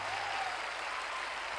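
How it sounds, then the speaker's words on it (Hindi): Dense, steady applause from a large seminar audience honouring a business speaker, a continuous wash of many hands clapping at even loudness with no pauses. "जोरदार तालियां बजाइए दोस्तों।"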